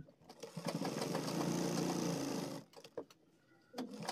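A sewing machine stitches a pant waistband belt with lining, running in one continuous, fairly loud whirring burst for over two seconds before stopping, followed by a few short handling clicks and a brief restart.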